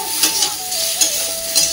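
Fish frying in hot oil in a kadai while being stirred, a bright continuous sizzle up close with a few scraping stirs, no voices.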